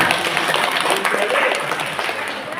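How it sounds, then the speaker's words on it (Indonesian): An indoor audience of teachers and education staff at a regional education office address applauds, with dense, continuous clapping through the whole short stretch and no distinct talk over it. "Tepuk tangan untuk panjenengan semuanya"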